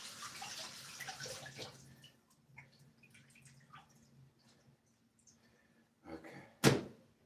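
Water runs from a tap as an item is rinsed off at home, a soft hissing stream at first that thins into scattered faint splashes and drips, ending with a sharp knock close by.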